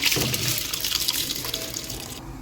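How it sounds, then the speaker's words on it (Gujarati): Soaked broken rice and its soaking water pour into a heavy-bottomed pot with a close, splashy gush of liquid that continues steadily before cutting off. "એને હવે જાડા તળિયાવાળા વાસણમાં ઉમેરી દઈએ છીએ પાણી સાથે જ ઉમેરવાની છે"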